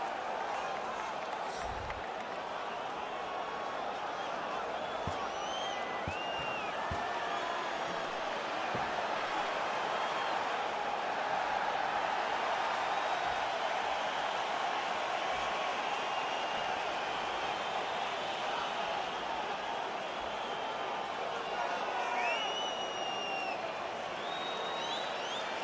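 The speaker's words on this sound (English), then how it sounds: "You hear the crowd. They're excited to see this guy in the big show" An arena crowd in the EA UFC 3 video game roars with a continuous, moderately distant cheering wash, with scattered claps, and a commentator talks over it.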